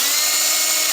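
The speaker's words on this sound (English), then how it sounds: "So I'm going to hold this drill down." A power drill with a nail clamped in its chuck runs in one steady, loud high-pitched whir that continues unbroken.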